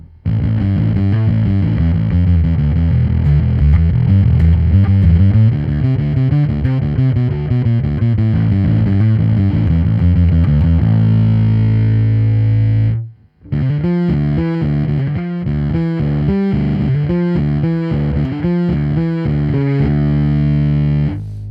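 Heavily distorted, fuzzy electric guitar through bass drive and fuzz pedals run in parallel, playing loud chords and riffs, with a brief cut to silence midway before a new, choppier strummed passage.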